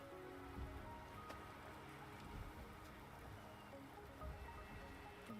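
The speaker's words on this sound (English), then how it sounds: "The rain is subsiding" Steady rain falling in the video game Wuthering Waves, a soft continuous patter with occasional heavier drops, quiet and even throughout with no voices.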